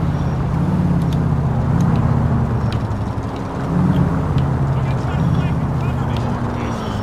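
A Police 2 car drives in a video game, its engine a steady low droning hum throughout, with faint clicks over it.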